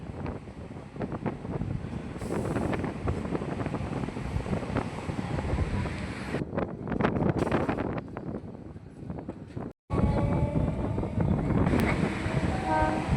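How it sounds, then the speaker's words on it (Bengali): Local train on the Sealdah to Diamond Harbour line rolling into the nearly empty Hotor station, a steady rumbling roar with wheel clatter and wind buffeting, heard from on board, with a brief dropout near the end. "এই যে আমাদের ট্রেন ঢুকে গেল হোটোর স্টেশন।"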